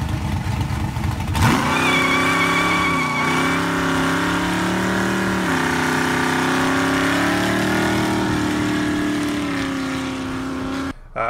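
A car does a tire burnout with its engine revving loudly, a sustained high roar with shifting pitch that holds for about ten seconds before cutting off abruptly.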